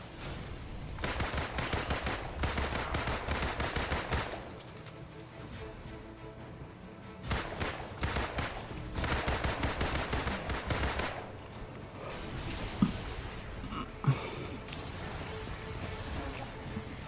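Sustained bursts of gunfire during a boss battle in the Marvel's Avengers video game, dense rapid volleys in two long stretches separated by a quieter pause, with a couple of sharp single shots near the end.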